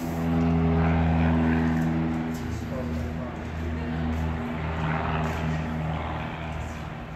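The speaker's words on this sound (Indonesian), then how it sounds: "Ini pesawat yang dipakai oleh siswa untuk belajar penerbangan ya insyaallah." Propeller training airplane of a flight school droning with a steady engine tone, loud and close, swelling early and then holding at a slightly lower level, with a voice talking over it.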